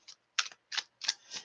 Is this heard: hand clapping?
no